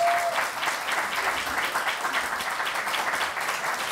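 Sustained applause from an audience at a joint candidates' debate for a social workers' association presidential election, steady dense clapping filling the whole stretch at moderate loudness without speech.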